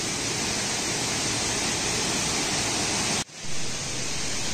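A river flows in a steady, broad rushing wash of water, loud and unbroken, with one brief dip partway through before the flow continues.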